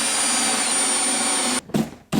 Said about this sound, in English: I drill some neat holes in the corner